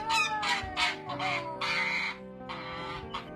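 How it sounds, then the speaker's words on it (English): Loud, harsh honking bursts from an angry goose, several agitated calls in quick succession, close by and uninterrupted by speech. "Looks like you're being attacked by an angry goose."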